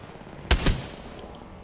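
A brief close burst of gunfire in the battle royale shooter Apex Legends: two quick loud shots in succession, then quiet, with a faint sharp hit at the very end.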